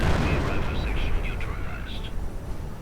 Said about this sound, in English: We're seeing more artillery.